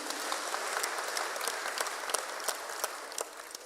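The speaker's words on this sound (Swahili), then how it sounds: "Hao watoto wote wapigiwe makofi vizuri." Applause for the children at a live Kikuyu church service, steady clapping from the congregation with sharper individual claps standing out, no speech over it.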